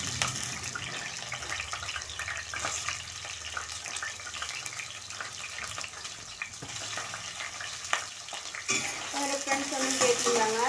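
Onions go into a pan with fenugreek and cardamom for a Tamil chicken curry, frying with a soft steady sizzle while a spoon stirs and scrapes, with faint clinks of utensils.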